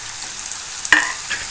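A spoon stirs chopped ivy gourd (kovakkai) frying in a pan with softened tomato and onion, giving a soft scrape with a brief louder clatter near the middle over a faint steady sizzle.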